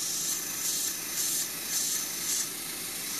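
An airbrush nozzle sputters as it clogs with Polly Scale acrylic model paint. A steady hiss runs throughout, with four soft rhythmic surges of spray that rise and fall, close and fairly quiet, with no talking.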